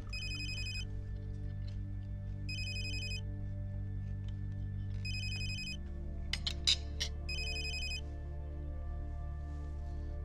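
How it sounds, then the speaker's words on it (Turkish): An electronic telephone ringtone sounds at a car gallery office, repeating in four regular high-pitched bursts over a steady low hum, with a few brief clicks near the end and nobody speaking. "Biri şu telefona baksın."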